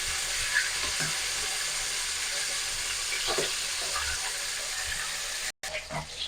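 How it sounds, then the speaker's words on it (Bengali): Pieces of katla fish frying in hot oil in a wok, a continuous even sizzle with occasional small spatters and a brief stir or clatter, moderately quiet and steady without talk. "মাছগুলোকে উল্টে পাল্টে লাল লাল করে ভেজে নেব।"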